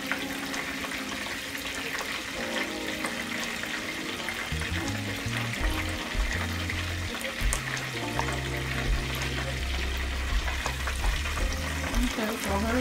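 Fish frying in oil in a pan in a home kitchen, a steady hissing sizzle running throughout at moderate level, with low rumbling bubbling that thickens partway through.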